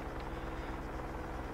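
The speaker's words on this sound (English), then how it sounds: "The chopper hammering you, Frik." A helicopter in the video game ARMA 3 thrums steadily with a low, rapid rotor beat and engine drone, moderately distant and fairly quiet.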